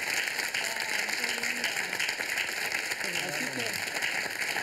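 A studio audience claps at a televised talk-show event, a sustained wash of applause with a voice speaking over it and faint tonal music beneath.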